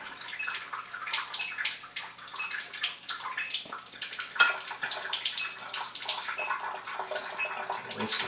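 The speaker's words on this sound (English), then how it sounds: "I'm going to collect some of this acid water here at the strong setting" Acid water from a water ionizer on its strong setting runs steadily into a container, a close, continuous splashing gush with small fluctuations and no talk.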